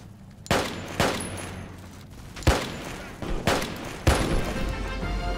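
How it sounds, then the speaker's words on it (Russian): Gunfire directed at the player in the war shooter Army Troop: several sharp, booming shots spaced about a second apart, loud and close with reverberant tails, no talking over them. "это по мне стреляют или как?"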